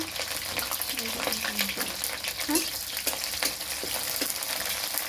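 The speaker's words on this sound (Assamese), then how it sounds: "এয়া চাওক পুৰা ভাজি আছে" Tomato masala fries in plenty of oil in an Assamese village kitchen, a continuous close crackling sizzle broken by stirring scrapes, with a faint voice briefly in the background.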